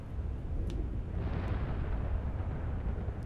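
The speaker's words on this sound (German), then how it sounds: "Jetzt explodiert hier alles um mich rum." Explosions in the underwater video game Subnautica Below Zero, heard as a deep, rumbling roar that swells and persists around the player, with faint crackles on top.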